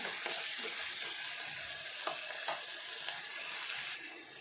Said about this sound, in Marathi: मीठ टाकल्यामुळं कांदा लवकर तळला जातो